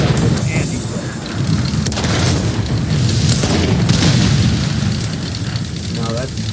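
Deep booming artillery shots from a Sexton self-propelled gun in a tank video game, heavy rumbling blasts that roll on continuously beneath someone talking over the action.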